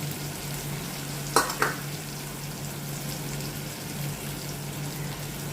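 Chili-powder spices fry in a pan with a constant close sizzle, and two quick scrapes of stirring stand out early on.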